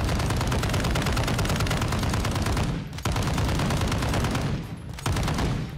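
Rapid automatic gunfire firing tracer rounds in Call of Duty Modern Warfare II pours out in long, loud bursts, with brief pauses between sustained streams of shots.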